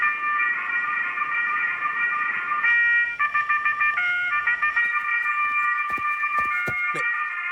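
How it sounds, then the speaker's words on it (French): A cartoon alarm clock rings with a loud, steady electronic trill that breaks into rapid pulsing stutters and clicks toward the end. "Mais c'est mon réveil."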